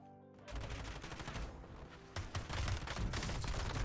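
Video game shooter gunfire, with sustained bursts of shots in a steady, dense fusillade that grows louder partway through, with no talk over it.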